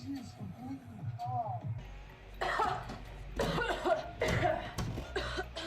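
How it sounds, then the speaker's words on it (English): Several coughs from a woman, a quick cluster of rough barks, with a voice speaking before them and again between them, close to the mic. "She coughs a lot. Why do you cough so much?"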